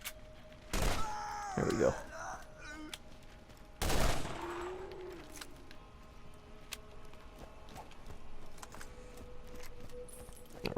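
Gunfire in the video game Borderlands, two loud sharp shot bursts with metallic ringing tails set apart by a pause, followed by quieter game ambience, with someone speaking briefly.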